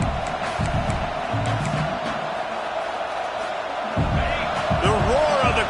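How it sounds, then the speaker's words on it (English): A stadium crowd at an LSU versus Penn State football game roars continuously as a dense, loud wash of noise, with scattered thuds, whistles and whoops rising near the end. "The roar of the crowd trying to fuel this defense to keep them pinned in their own end."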